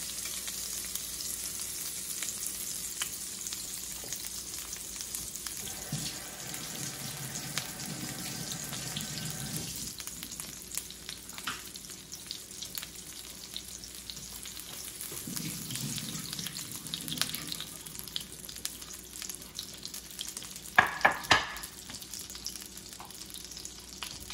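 Cardamom dropped into a preheated non-stick frying pan with melted butter, a continuous soft sizzle with occasional clinks and scrapes of a wooden spoon, fairly faint and close, no voices.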